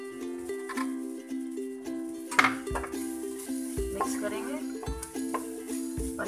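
Minced meat keema being stirred in a pan with coriander added, with soft scraping and occasional clinks of a spoon against metal over a faint sizzle and a steady tonal hum, while a voice speaks over parts of it.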